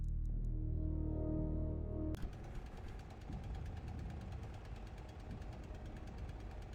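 A tank engine in the Sprocket video game revs up and holds at maximum RPM, a dense, rattling, knocking drone after a lower idle hum in the first two seconds, steady and continuous, with no speech.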